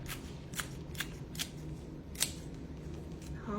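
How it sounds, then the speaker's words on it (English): Scissors snip a green onion repeatedly at close range, a series of sharp crisp cuts at a quick, uneven rhythm over a quiet background. "Take some scissors and I'm just gonna chop it."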